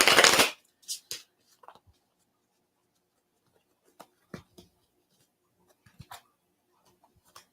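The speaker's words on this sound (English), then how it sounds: "I'll shuffle these together" A quick riffle of cards in the first half second, followed by scattered soft taps and clicks in an otherwise quiet room.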